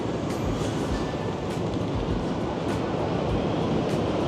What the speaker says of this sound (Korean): 이 전철이 위에로 다니더라고요